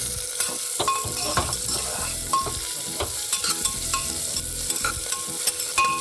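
Onions sauté in a hot pan with a steady, loud sizzle, while a spoon stirs and scrapes against the metal in frequent light clinks throughout.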